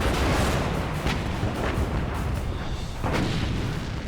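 British battleship guns firing broadside at the Bismarck in a WWII naval battle, a rolling series of deep booms and blasts over a constant rumbling roar, several sharp reports standing out, loud and unbroken.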